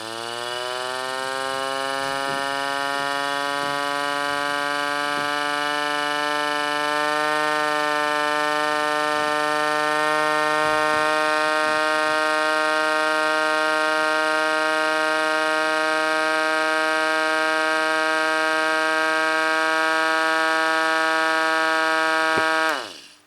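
A Chloride Gent warbler siren runs off a 9-volt battery, giving a steady, buzzy electronic tone rich in harmonics that holds for over twenty seconds before cutting off, fairly close and alone.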